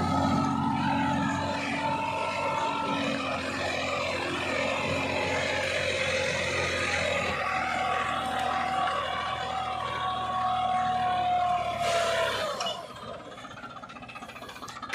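A Farmtrac tractor engine with a turbo runs steadily at full load for about twelve seconds, a loud continuous drone with a rising whine, then the revs drop and the sound fades near the end.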